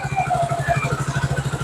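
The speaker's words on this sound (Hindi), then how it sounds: "अभी हमने बाइक को स्टार्ट किया, तो ये देखिए इंजन अभी स्टार्ट है" A motorcycle engine idles cold just after starting, a near, steady low thumping putter with a quick even rhythm and a faint mechanical clatter.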